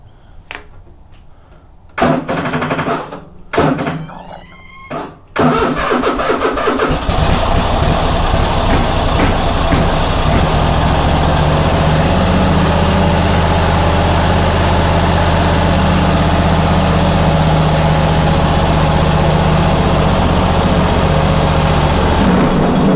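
Toro Timecutter riding mower engine, just after a tune-up: several short separate bursts of cranking, then it catches and runs as a loud, steady low rumble that continues to the end.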